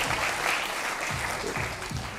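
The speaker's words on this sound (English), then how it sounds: "I just think we should give ourselves a round of applause on just a great day" A school morning assembly giving itself a round of applause, dense clapping from many hands filling the room, steady and fairly loud and close throughout.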